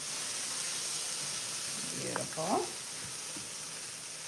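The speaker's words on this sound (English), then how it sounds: "then we're gonna mix these guys in, let them saute for a second" Vegetables sautéing in a pan for birria tacos, giving a steady bright sizzle throughout with a brief stir of movement and a short spoken word midway.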